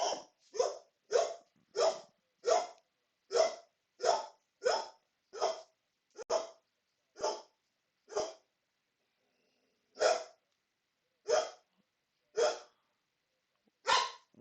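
A dog barks repeatedly at a steady, quick rhythm, about a dozen short, sharp barks at moderate distance, then several more spaced out after a pause, with quiet between them and no talk.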